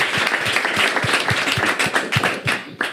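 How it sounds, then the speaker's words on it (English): A warm round of applause from a conference audience for an entrepreneur and digital content head at Nonzēro, steady dense clapping with sharp individual claps standing out, fairly close and continuous throughout. "A warm round of applause"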